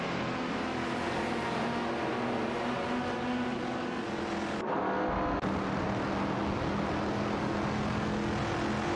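Racing video game cars, including a Ferrari 275 GTB and a Shelby GT350, make a continuous loud engine drone with layered tonal hums, broken by a brief dip and shift in pitch midway, with no voices.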